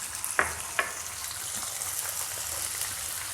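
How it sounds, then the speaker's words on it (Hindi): Samosa filling frying in hot oil, a steady soft sizzle with a couple of brief sharper clicks from stirring, heard close with no talking. "गरम तेल में फ्राई हो रहा है"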